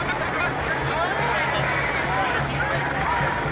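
Dense crowd of protesters packed together on a street in Houston during Super Bowl week, giving a steady, continuous hubbub of mixed voices and babble with no clear pauses.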